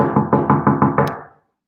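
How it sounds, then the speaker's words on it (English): Knuckles rap on a wooden door in a quick run of six evenly spaced, close and loud knocks, then the sound fades to silence. "if someone knocks on the door"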